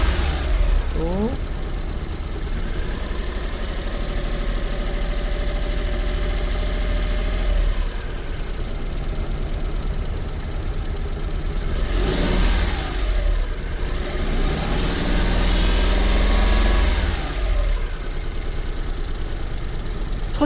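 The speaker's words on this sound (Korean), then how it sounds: "차는 좀 부조하고 있어요" A car engine idles roughly after a cold morning start on a car with a stalling fault, running loud and continuous with a shaky idle and a couple of brief accelerator blips, while someone talks over it.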